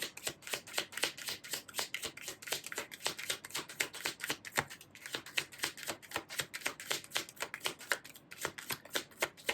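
Tarot cards being shuffled during a reading make rapid, rhythmic riffling clicks in quick repeated bursts, close and fairly quiet, with no talking.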